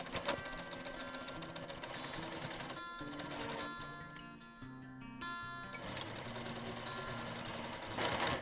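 A sewing machine runs a narrow 1/8-inch seam on a boho bag at a short 2.5 stitch length, including a back stitch: a steady, close, continuous mechanical whir over 8 seconds, briefly easing mid-run before resuming.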